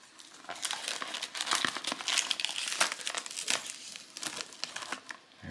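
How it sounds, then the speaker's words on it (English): Protective film crackles and crinkles as it is peeled off the carbon-look shell of an RLAARLO brushless RC buggy, a dense run of close, busy rustling bursts that keeps going throughout. "make sure you always remember to peel off the outside film"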